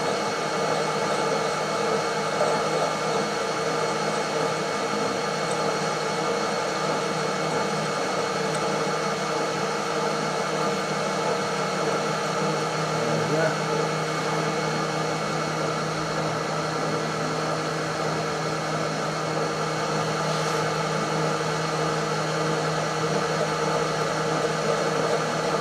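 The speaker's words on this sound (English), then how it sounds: "piece of bar in the lathe and just take a few thou off it to get it to go into this collet" Steel bar spinning in a Holbrook B9 lathe while a few thou are skimmed off, a steady even machine hum and hiss running unbroken throughout with no talk.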